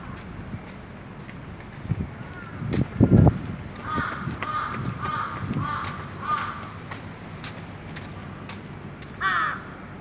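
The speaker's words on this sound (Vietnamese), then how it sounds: "Những cái tiếng mà mọi nghe là tiếng quạ ha" Crows cawing outdoors in Sapporo, Japan, several harsh calls scattered through the stretch, some distant and one burst nearer, over wind noise, footsteps and street ambience.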